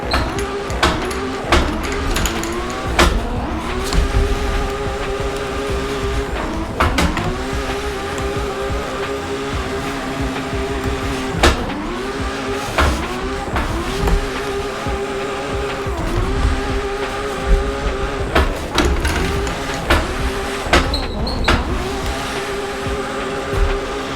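A car drifting in the racing video game Assetto Corsa, with a steady engine drone broken by repeated sharp tire squeals and skid bursts at irregular intervals, loud and continuous.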